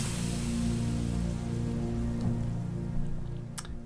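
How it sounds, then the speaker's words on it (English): Omnisphere Creepy Crawlies synth patch with aftertouch adding skittering creepy crawly textures: a steady rain-like crackling wash over low sustained tones, with a few brief bright clicks toward the end. "Aftertouch brings on more creepy crawly sounds."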